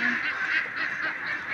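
Egg-laying ducks quacking continuously nearby, a dense, nasal chorus of overlapping calls with no pauses.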